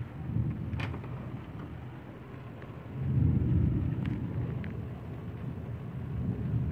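Thunder from a strong, highly electric June storm over Villers-Bocage, Normandy, rolls as a low, continuous rumble that swells louder midway and keeps grumbling on, with no voices.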